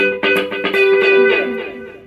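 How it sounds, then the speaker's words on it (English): Guitar played through a delay effects pedal: a few plucked notes ring out and repeat, stacking into a sustained tone that slowly decays, with no talking. "So you can actually make this just a delay pedal."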